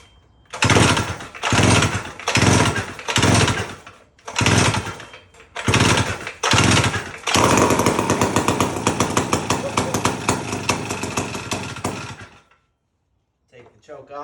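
A chainsaw running on a temporary fuel tank is pull-started again and again, with loud separate rasping cranks before it catches. It then runs at steady, chattering throttle for several seconds and cuts out abruptly.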